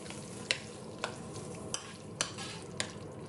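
Stirring a seasoned brunch mixture with Doritos soaked in it, a utensil scraping the bowl in four or five distinct strokes over a faint sizzling background, close and moderately loud with no talking.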